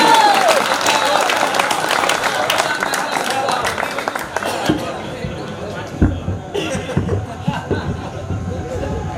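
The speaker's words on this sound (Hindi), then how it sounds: "एक बार जोरदार ताली के बीच आमंत्रित करें भाई दिनेश बंटी।" Audience at a live Hindi comedy show in a village applauds and claps to welcome a comedian onstage, a dense burst of clapping that thins out after a few seconds while crowd noise and scattered voices continue.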